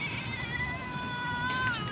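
Stray cats yowling and growling at each other over food in drawn-out, wavering tones, a tense caterwauling exchange at close range.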